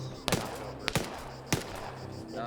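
Small-arms fire in a video game: three sharp, separate gunshots at steady intervals, fairly close, with quiet game background between them.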